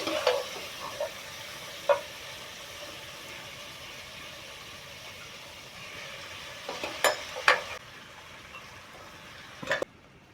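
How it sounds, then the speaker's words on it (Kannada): Cooked mutton for a pepper fry sizzles steadily in a pan, with a few sharp scraping stirs of a spoon at intervals, close and moderately quiet with no talking. "ಈ ಸ್ಟೇಜಲ್ಲಿ ನಾವು ಬೇಯಿಸಿ ಇಟ್ಕೊಂಡಂಥ ಮಟನನ್ನು ನೀರಿಲ್ಲದೆ ಇದನ್ನು ಇದಕ್ಕೆ ಹಾಕ್ಕೋಬೇಕು."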